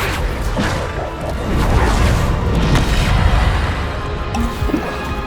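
Bombarda spell explosions boom and crash in Hogwarts Legacy combat, a dense, loud wash of blasts and whooshes that rumbles continuously with no clear gaps.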